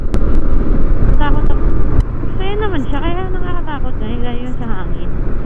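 Strong wind roars and buffets steadily while riding a Kymco Xciting S400i scooter along the SLEX expressway, a loud broadband rush that covers everything, with a voice talking over it.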